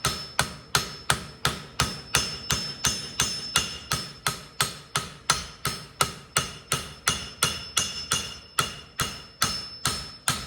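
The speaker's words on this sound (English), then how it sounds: "Now I'm holding it flat on the anvil. I'm just kind of straightening that edge." An ulu knife blade held flat on an anvil takes steady, evenly spaced hammer blows, close and loud, with roughly two ringing metallic strikes each second for the whole stretch.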